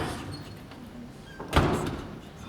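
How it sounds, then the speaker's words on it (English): A door is pushed shut with a single solid thud and a brief rattle of the latch, fairly close, set against a quiet background hum with no talking. "Secure the door behind me."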